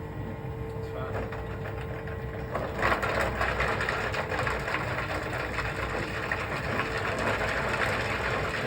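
A Pacojet 4 spins at 2000 RPM in a restaurant supply showroom, a steady mechanical whir and grinding that grows rougher and louder partway through, with people talking nearby.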